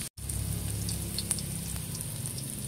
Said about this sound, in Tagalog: ako po ay nagigisa na po na yung pong bawang at sibuyas